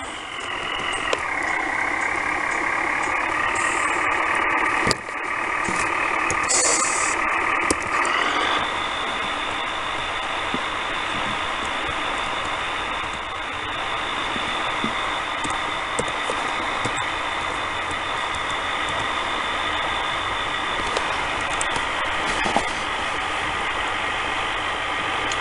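A Blue Bird school bus engine idles up close with a steady, mechanical drone; its pitch shifts and whines briefly early on, then settles into an even, continuous idle with faint clicks.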